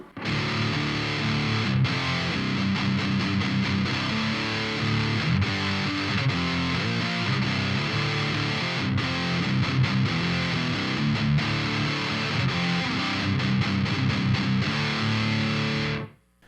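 Dense, sustained electric guitar through a Twinote Pi fuzz pedal with heavy distortion, playing continuous chords and riffs loudly for the whole stretch before stopping abruptly at the end.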